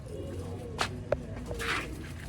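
Kuwaiti teddy pigeons coo nearby, two or three soft low calls over a quiet background with a faint chirp toward the end.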